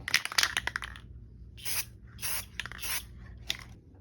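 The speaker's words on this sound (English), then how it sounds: "we just got the last coat of our normal spray paint on" An aerosol spray paint can laying a coat of paint on a yozma, several short, close hissing bursts separated by brief pauses, with no talking.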